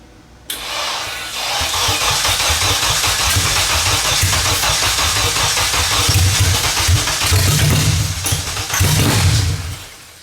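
A 600HP all-wheel-drive turbocharged Honda Civic engine cranks and fires up loudly, then runs at a steady, rough idle with a few throttle blips near the end before shutting down.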